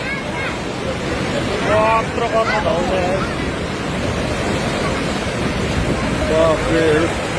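A flooded river rushes past, a loud, broad roar of churning water with wind buffeting the microphone and people talking nearby over it.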